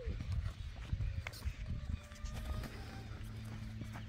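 A bayo horse with black points, a ranch horse kept in the open field, shifts its hooves while being positioned, giving irregular soft clip-clop steps close by over a steady outdoor background.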